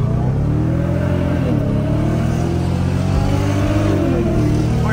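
A Mercedes E500 with its stock, untuned engine revs loudly and continuously, a deep close-up roar with rising and falling pitch sweeps.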